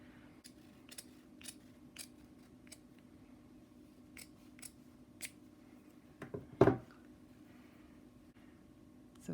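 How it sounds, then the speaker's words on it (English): Scissors snip through the fabric seam allowance of a fly facing, a series of short, crisp cuts spaced about half a second apart, close and fairly quiet over a steady low hum, with one louder snip near the end. "I'm going to trim off this facing seam allowance just a little bit"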